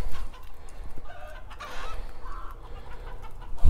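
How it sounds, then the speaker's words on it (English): Upset chickens at an off-grid tiny house homestead in snowy weather cluck and squawk agitatedly at a moderate distance, a continuous fretful chatter with louder calls rising now and then. "Chickens are upset about something."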